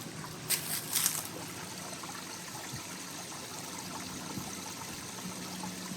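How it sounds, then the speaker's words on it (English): Water trickles along a stream beside a paved canyon trail in spring, a soft steady wash running alone and fairly close, with a few brief brighter splashes near the start. "I'm going to hear some water."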